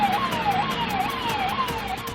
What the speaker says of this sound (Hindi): वहीं दूसरी ओर डीएनडी पर ही एक एम्बुलेंस जाम में फंस गई थी।